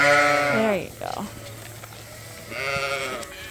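A sheep on a farm bleats loudly and close by, one long wavering call followed after a pause by a second, with quiet barnyard background between them.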